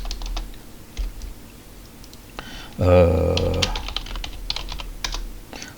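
Quick keystrokes on a computer keyboard as an email address is entered, a steady patter of soft clicks under a low room hum, with a brief voiced sound in the middle.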